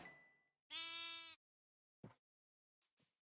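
Two loud electronic Minecraft sheep bleats, the first a brief buzzy one and the second longer and wavering, followed by a few short clicks in silence.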